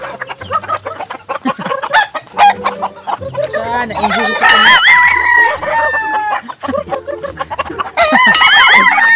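Pet chickens being fed cluck busily up close, with a rooster's loud crows rising midway and again near the end, while a person speaks briefly among them.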